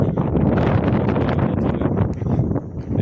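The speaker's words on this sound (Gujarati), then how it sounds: "આજ પવન સારો છે" Strong wind buffets the microphone in a steady, loud roar on a farm during sesame threshing, rumbling continuously throughout with faint rustling underneath.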